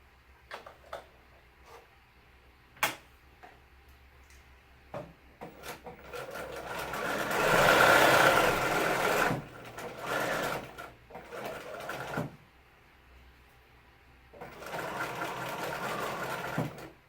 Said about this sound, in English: And then continue stitching.